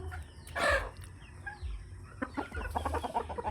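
Chickens clucking nearby, with a loud squawk early on and a run of quick clucks toward the end over low background rumble.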